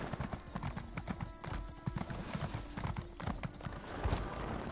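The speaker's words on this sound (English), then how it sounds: "It's either like an actual baby horse or one of those miniature horses." Horse hooves clip-clop in The Elder Scrolls Online, a small foal or miniature horse walking in a steady uneven patter of soft thuds, fairly faint, with a brief whinny-like tone mixed in.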